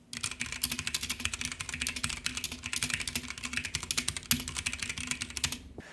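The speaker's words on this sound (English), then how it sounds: "So here's a quick typing sound test." Fast, steady typing on a Planck EZ mechanical keyboard with Cherry MX Brown switches, close up, with dense clacking keystrokes and an occasional heavier thock of a larger key.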